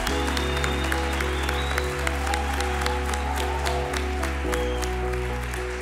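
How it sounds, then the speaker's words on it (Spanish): A talent-show audience gives sustained applause, many hands clapping in a dense, even wash, layered over a loud, sustained low musical drone with steady held tones beneath. "Este aplauso para todos ellos"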